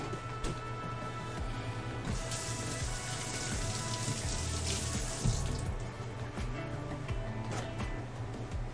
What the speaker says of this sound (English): Hand wash up time.